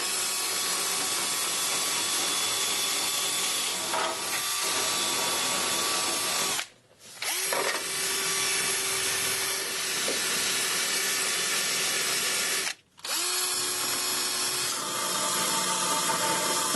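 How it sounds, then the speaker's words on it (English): Wire brush spinning on a power drill, scrubbing rust off a car chassis before front suspension refitting; a continuous loud grinding hiss with two brief pauses where the drill stops and restarts. "that's the worst of the rust taken off with a wire brush on the drill"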